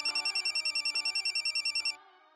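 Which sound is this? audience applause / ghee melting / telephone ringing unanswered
telephone ringing unanswered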